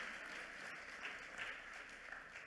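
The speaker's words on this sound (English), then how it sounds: "And how about a round of applause for Mark Dombrowski, a real gem in Erie, Pennsylvania?" Steady audience applause at a public forum on local government with mayors, a dense, even wash of clapping that holds for the whole stretch at a fairly soft level.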